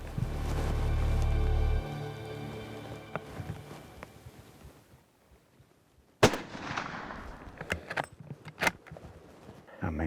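A single sharp, loud rifle shot cracks out during a leopard hunt, standing out from the quiet bush and low background noise, followed by faint rustling and small knocks.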